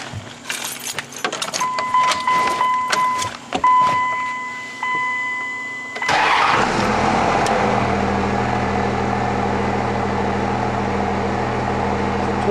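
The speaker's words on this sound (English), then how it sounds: "let's fire this beast up and see what she does at idle" A car engine cranks and catches about halfway through, then settles into a steady, loud idle with a low even hum; before it starts, keys jangle and clink close by.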